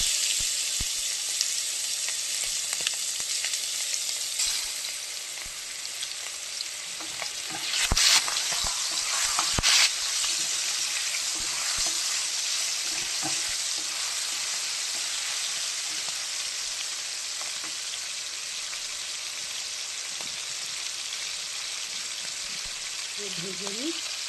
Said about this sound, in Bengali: চিংড়ি মাছটা ভেজে নিচ্ছি।